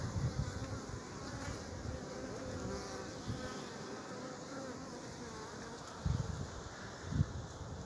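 Bees at an apiary where a wasp is attacking them, a steady layered buzz of many insects continuing throughout, moderately close, with a few louder passes near the end.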